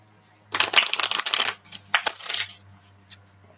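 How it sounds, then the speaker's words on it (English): A deck of tarot cards is shuffled close up: a dense riffling burst of papery flutter, then a few shorter shuffles and a final quick flick against a quiet background with no talking. "Now a couple shuffles with this part."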